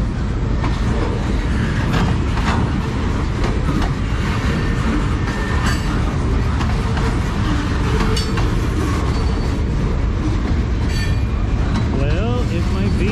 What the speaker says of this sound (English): it might be that this train is on the way out of town.